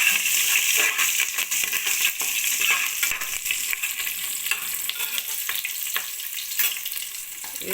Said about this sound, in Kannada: ಪಲಾವ್ ಎಲೆ ಎಲ್ಲ ತೊಗೊಂಡಿದ್ದ ಎಲ್ಲ ಹಾಕ್ತಿರ್ತೀನಿ. ಇದೆಲ್ಲ ಚೆನ್ನಾಗಿ ಫ್ರೈ ಮಾಡ್ಕೋಬೇಕು.